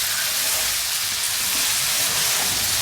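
Ground garam masala frying in a pan for palak paneer gives a continuous, fairly loud sizzle, a steady broadband hiss without pauses and no voices.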